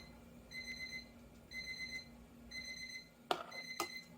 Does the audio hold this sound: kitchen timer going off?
yes